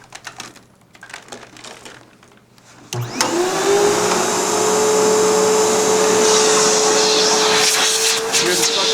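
An American-made Riccar vacuum cleaner switches on abruptly after a few seconds of quieter background sound, then runs loud and steady with a high motor whine through to the end.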